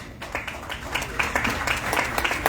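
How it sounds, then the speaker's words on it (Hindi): Audience applause at a felicitation ceremony honouring a member of parliament, scattered crowd clapping with distinct sharp claps popping through, mixed with background murmur and voices. "जोरदार तालियों के साथ आप इस अभिनंदन में शामिल हों।"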